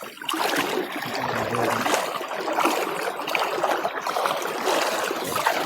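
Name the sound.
floodwater flowing beneath a bridge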